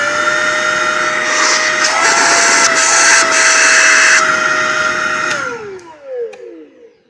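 The motor of a Shark Rocket Complete DuoClean stick vacuum runs alone as a loud, high-pitched steady whine with an airy rush, then switches off and winds down with a falling tone near the end.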